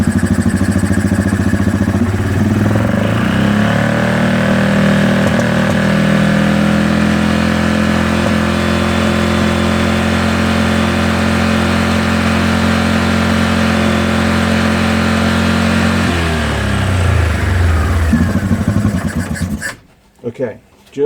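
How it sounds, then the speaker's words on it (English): A machine engine with its stator under test runs at fast idle, a loud steady mechanical drone with strong low harmonic hum held for most of the time, then it winds down and falls silent near the end. "now we start the machine up again. And fast idle"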